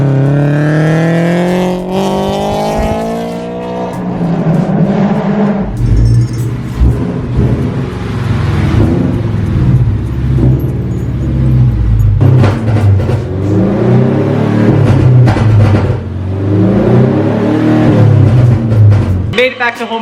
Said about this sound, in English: The BRZ sounds so good